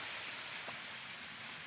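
Steady rain falls outdoors, a soft, even hiss of drops filling the whole clip at low volume, with no voices.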